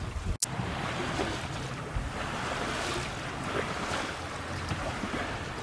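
A sailing boat under genoa drives through waves in strong wind, giving a steady, loud rush of water and wind noise on the microphone after one sharp knock at the start, with no talking.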